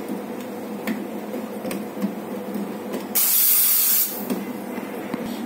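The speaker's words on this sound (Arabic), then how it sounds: "هنروح عند دراع الستيمر ونمسح ورانا" An espresso machine steam wand gives one loud, forceful hiss of steam lasting about a second as it is purged, set among quieter light ticks and clatter from wiping and handling nearby.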